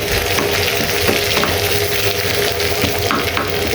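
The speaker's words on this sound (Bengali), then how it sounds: "পেঁয়াজটা আমি বাদামি কালার করে ভেজে দিব।" Sliced onions frying in hot oil in a pan until browned for khichuri, a dense continuous close sizzle with occasional stirring scrapes, no voices.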